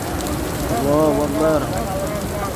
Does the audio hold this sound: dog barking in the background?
no